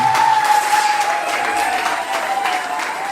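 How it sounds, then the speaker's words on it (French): Wedding guests applaud the newly introduced Monsieur and Madame Fabre at a wedding, a dense, steady wash of many hands clapping together, loud and close, with a faint sustained tone running beneath it throughout. "On les applaudit, s'il vous plaît"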